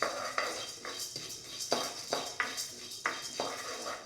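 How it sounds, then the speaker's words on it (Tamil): Roasted gram and cumin are tossed dry in a hot pan with a metal spoon, giving about ten sharp scraping strokes in a steady rhythm, close and fairly quiet. "வானல் இருக்கிற சூட்லேயே பொட்டுக்கடலையும் கொஞ்சம் ஜீரகமும் வறுத்துக்கலாம்."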